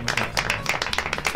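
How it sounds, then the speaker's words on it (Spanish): Studio audience claps briefly during a Spanish-language tech and entertainment talk show, a quick burst of close, moderately loud hand claps with a little talk underneath. "A ver, un aplauso."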